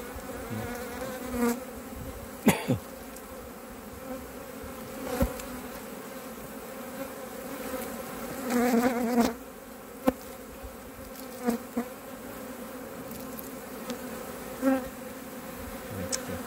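Honey bees buzz steadily around three hives in an apiary whose colonies had not got a new queen back, a dense continuous drone with a few louder passes as individual bees fly close.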